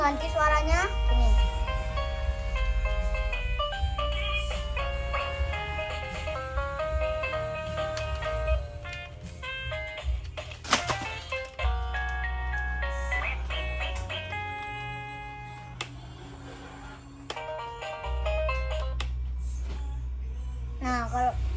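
LOL toy guitar playing its built-in electronic tunes, bright melodic tones in short phrases that switch between sounds, with a child-like voice speaking over parts and occasional clicks of buttons.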